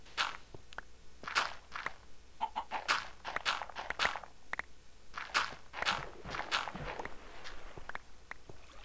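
A chicken in a video game clucks repeatedly in quick, uneven bursts, close and fairly clear, over soft footstep-like rustles and a quiet ambient hum.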